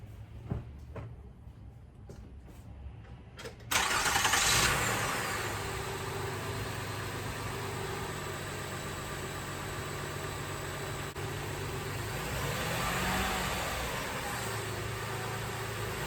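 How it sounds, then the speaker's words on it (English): A 2004 Toyota Sienna with a cylinder 5 misfire code is started: a brief cranking burst, then a steady close engine idle with a faint uneven edge that runs on unchanged, with no voices. "I'm gonna go start it up, see if the spark plugs helped."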